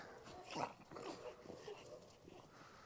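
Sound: happy dog

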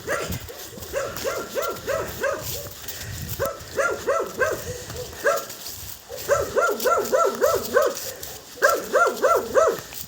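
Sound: dog barking at its owner as if at a stranger

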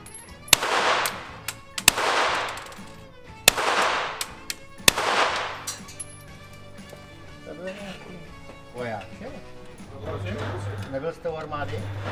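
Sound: gunshots from a sport-special pistol

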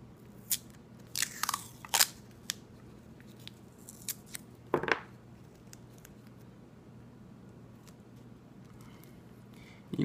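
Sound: tearing masking tape

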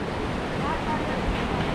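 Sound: ocean waves at Colva Beach, Goa

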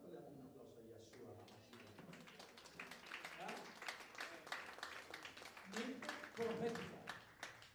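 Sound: congregation applauding

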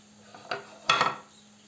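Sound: stirring onions and peppers in a pan

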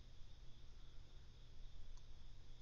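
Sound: crickets chirping

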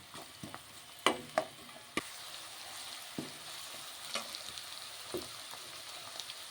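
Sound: frying chopped onions and green chillies

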